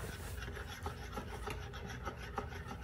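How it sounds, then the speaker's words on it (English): Cheesecake mixture is whisked by hand in a steady, close, soft scraping and sloshing rhythm, with regular light strokes and no speech. "we have to whisk again our cheesecake"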